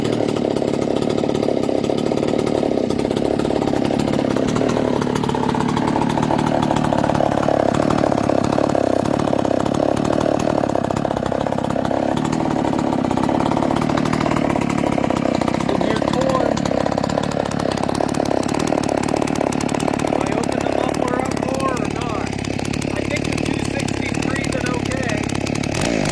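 Stihl 024 chainsaw with a reamed-out, modified muffler, running continuously with a loud, steady buzzing drone that shifts slightly in pitch, close by for the whole stretch, with a voice partly underneath.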